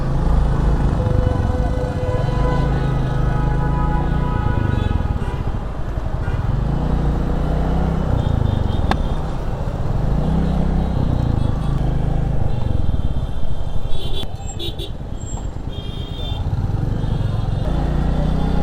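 Royal Enfield Classic 350 motorcycle being ridden, its steady low engine drone rising and falling in a slow repeating rhythm with rushing road and wind noise throughout, close and loud.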